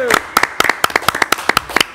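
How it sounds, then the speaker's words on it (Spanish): Clapping from a studio audience on a Chilean comedy show, a quick irregular run of sharp hand claps, close and fairly loud, with a cheer-like voice tone behind them. "Un aplauso grande."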